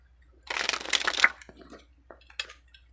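Tarot cards being shuffled by hand, a dense riffling burst for about a second, followed by a few lighter card slides and taps, close and clear with no talking.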